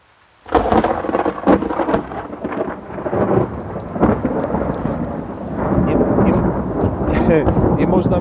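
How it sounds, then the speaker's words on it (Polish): A heavy thunderstorm with loud thunder and steady rain, the rumbles rolling in close and the rain hissing continuously throughout with no one talking. "Ale burza jest konkretna, wczoraj też taka była."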